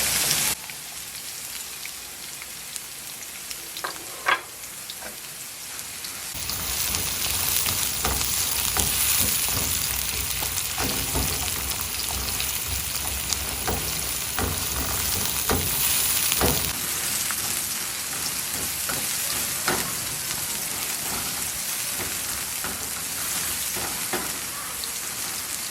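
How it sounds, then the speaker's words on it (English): Garlic and onions frying in roughly three tablespoons of oil for carrot rice: a steady, close sizzle and crackle that starts quietly, then swells loudly and holds, with occasional stirring clicks. "And even before it starts heating up, I'm going to add my garlic. I'm going to add my onions."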